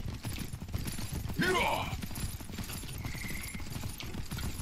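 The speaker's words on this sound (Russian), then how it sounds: "Че, лошадь тут мечется вокруг." Hooves of a horse galloping around nearby in the medieval combat game Myth of Empires, a steady clip-clop patter over continuous game noise, with a brief whinny-like swoop partway through.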